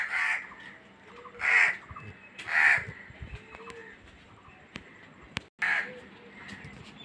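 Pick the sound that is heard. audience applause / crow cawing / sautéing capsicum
crow cawing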